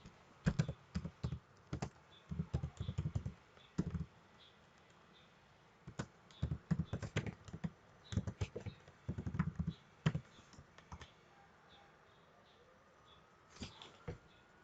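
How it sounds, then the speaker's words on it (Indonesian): Keys clatter on a computer keyboard as a script is typed, coming in quick bursts of clicks separated by short pauses, close and fairly quiet in a calm room. "Kemudian ketikkan script berikut ini."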